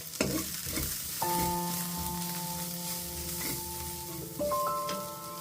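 Onions fry and sizzle in a pan with ground coriander, turmeric, cumin, chili and salt as the base for a salmon curry. The hiss is continuous and close, with stirring scrapes and a few steady tones faint in the background.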